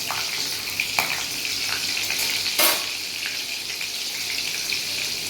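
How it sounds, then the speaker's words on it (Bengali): Butter dropped into hot white cooking oil in a pan for a Bengali-style chicken stew, with a continuous close sizzle, a few sharp crackles and a louder burst partway through, no talking. "এবার এই সাদা তেলের মধ্যে আমি বাটার দিয়ে দেব"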